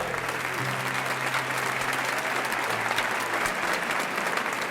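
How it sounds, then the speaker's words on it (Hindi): Sustained audience applause fills a staged event welcome, dense and steady clapping from a sizable crowd that holds at an even level for the full stretch without talk. "गूंजती तालियों के बीच सिद्धार्थ स्टेज पर गया।"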